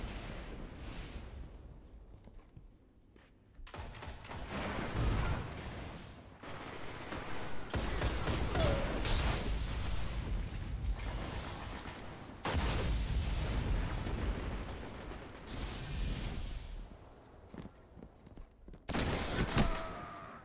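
Rapid bursts of gunfire in the Destiny shooter game crackle almost continuously at loud, steady intensity, with sharp individual shots cutting through near the start and end.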